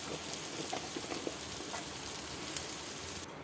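Eggplant pieces frying in hot oil with ground spices, including Kashmiri chilli powder, in a pan for an Indian eggplant dish, giving a steady close, dense sizzle with no talk.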